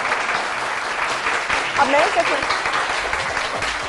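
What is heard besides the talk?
studio audience applause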